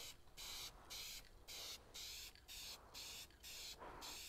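Paint spray gun with a clogged nozzle spitting in rhythmic bursts, about nine hissing blasts with short gaps between, close and fairly loud, no talking.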